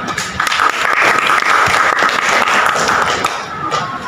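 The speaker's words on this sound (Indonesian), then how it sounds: "Berikan aplaus buat Ima." A classroom audience gives a student a burst of applause, with many hands clapping together in a steady, fairly loud patter for about four seconds.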